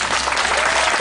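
A loud, dense burst of audience applause at a talk, many hands clapping together in a steady roar that fills the whole moment.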